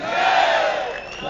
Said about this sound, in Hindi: मैंने कही तो नहीं है ताली बजाओ, बज रही है।